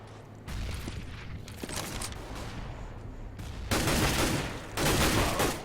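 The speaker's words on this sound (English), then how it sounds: "manages to pick off Weber, shooting him through that roof" Gunfire in Counter-Strike at a Copenhagen Games 2013 match, heard as dense, continuous rattling bursts throughout, growing louder near the end, with no talk.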